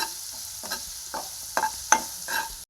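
Curry leaves, finely chopped onion and a pinch of turmeric sizzle in a pan while being stirred, with several distinct scraping strokes over a low frying hiss.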